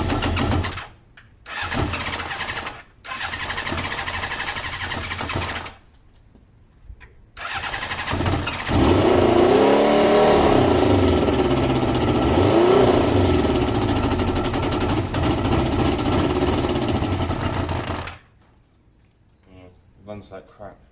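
A barn-find Kawasaki ZL600 Eliminator motorcycle with a poorly running engine cranks in short bursts, then catches and runs roughly for about ten seconds with uneven revs before cutting out, then quiet.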